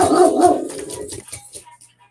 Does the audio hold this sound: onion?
no